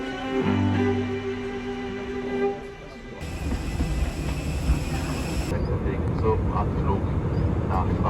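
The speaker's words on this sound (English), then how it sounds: "here we are at the airport" Busy airport ambience with a steady broadband roar from aircraft or terminal machinery, joined partway through by a high-pitched tone, while people talk in the background throughout.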